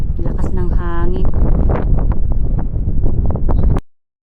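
Strong wind roars and buffets the microphone in a steady low rumble on Shek O Peak on the Dragon's Back hike in Hong Kong, with a voice briefly audible under the gusts.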